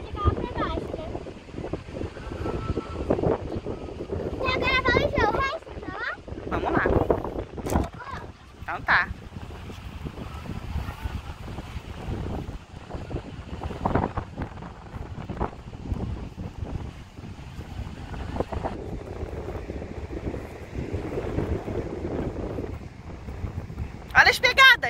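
Wind blows across the sand dunes at a Cabo Frio beach, a steady rumbling gust on the microphone that runs throughout while people talk over it.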